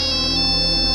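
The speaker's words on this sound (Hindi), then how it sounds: "ये लो केडी, सीएम का सेल फोन" A cell phone rings in a Hindi TV crime drama, sounding a loud, steady electronic ringtone with sustained bright tones that fill the brief moment alone.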